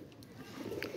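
A pigeon caught in a net coos softly against a low, steady background rumble, with a faint chirp or two above it.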